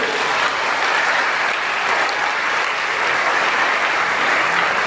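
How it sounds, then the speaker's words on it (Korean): A church congregation at a Korean Deaf church service bursts into loud, dense applause, a thick, even roar of many hands clapping together that holds steady throughout. "우리 한번 박수 한번 해주세요."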